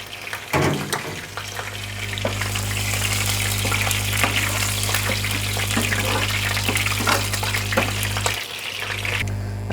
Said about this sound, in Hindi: तो ये अब हम इसके अंदर ऐड करेंगे, ठीक है। थोड़ा फ्राई करेंगे हम इसको।